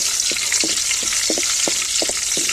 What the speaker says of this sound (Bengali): ওই কড়াইয়ে তেল দিয়ে দিব, তেজপাতা, শুকনো মরিচ দিয়ে দিব